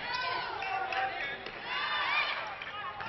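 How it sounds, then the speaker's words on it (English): Crowd noise from spectators at a 2011 volleyball state championship match, a steady, continuous roar of voices and cheering from both sides of the gym, with commentary talk layered over it. "And you hear the crowds here"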